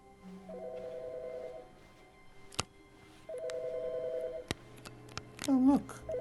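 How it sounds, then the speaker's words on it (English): Telephone ringing in the video game The Stanley Parable: two bursts of a trilling electronic ring, each about a second long, separated by a pause, with soft clicks and a brief tonal game sound afterward. "Oh look, a phone."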